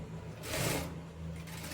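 A sewing machine back-stitches along a straight-cut kameez neckline, a quiet, short motor hum with a brief louder whirring burst in the middle.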